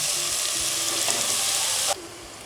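Tomatoes fry in a pan for kuska, giving a loud, steady sizzle with faint stirring scrapes that drops sharply in level near the end.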